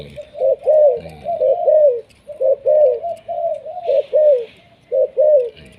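An old decoy dove coos loudly and close by in repeated rhythmic phrases of soft hooting notes, with brief pauses between bursts and no voices.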